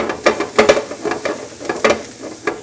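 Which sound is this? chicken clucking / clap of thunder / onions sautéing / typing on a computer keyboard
onions sautéing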